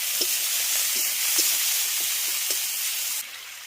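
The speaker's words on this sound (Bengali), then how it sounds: "আদা জিরে আর শুকনো লঙ্কা বাটা দিয়ে সমস্ত কিছুকে খুব ভালো করে কষিয়ে নেব" Steady, hissing sizzle of cabbage and soybean curry frying in oil with ginger, cumin and dried chili paste, with faint stirring taps at intervals, close and continuous without speech.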